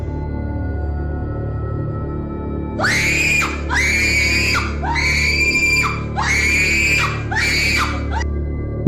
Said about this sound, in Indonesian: Suara teriakan itu begitu menakutkan, sama halnya seperti orang yang sedang kesurupan.